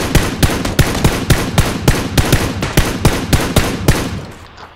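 Rapid bursts of gunfire in PUBG, about a dozen sharp evenly spaced shots loud and close, fading out at the end.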